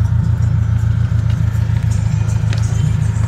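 A 1982 Chevrolet Opala Standard idles close by, its engine thrumming in a steady low, lumpy pulse with faint clatter and no talk over it.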